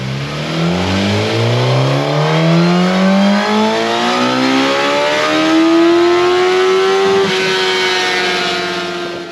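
A 2020 Suzuki GSX-S 1000 motorcycle engine on a dyno, airbox diverter removed, revs steadily upward in loud, sustained pulls, pitch climbing over several seconds before dipping slightly and holding high, with no talking.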